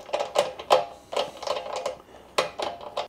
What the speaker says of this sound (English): I'm just going to nip it up with this socket wrench